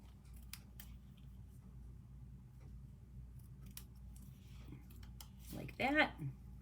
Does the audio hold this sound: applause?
no